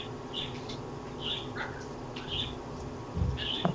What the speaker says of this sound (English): We can hear the bird.